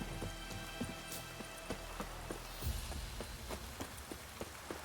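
Rain falls in the video game The Witcher 3: Wild Hunt, a faint steady patter with scattered drop ticks and what sounds like horse hooves clopping rhythmically underneath, with no talk.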